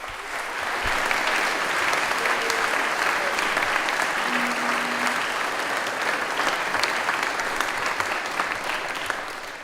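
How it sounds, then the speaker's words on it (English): A school chapel gathering applauds a student hockey award. Steady, full clapping from a large room carries on for nearly ten seconds with no speech over it. "So a nice round of applause for Dylan, please."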